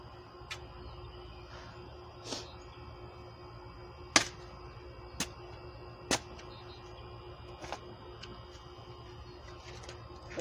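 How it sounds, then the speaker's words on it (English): Rocks scrape and clink in garden soil being dug for planting comfrey and moon flowers, heard as sparse sharp clicks and knocks spaced a second or two apart over a steady low outdoor hum. "You can hear the rocks."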